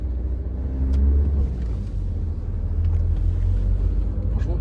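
An Audi Q3 Ambition Luxe with a manual gearbox is heard from inside while driving on a road, its engine a smooth, low, steady rumble with mild swells in revs and no talking.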